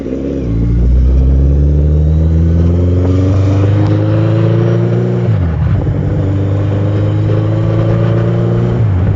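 A car engine climbs steadily in revs while pulling up a gentle gradient toward a beach, loud and close, then drops briefly as the gear changes and builds again, with wind noise alongside.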